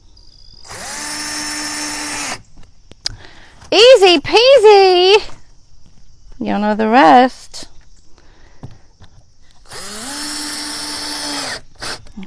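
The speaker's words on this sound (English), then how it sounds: "now I've got to put my other drill bit back in so that I can drill my screws in" A power drill drives screws into a barn wood garden sign in several bursts of whirring, two loud close runs and a few shorter ones, with brief talk between them.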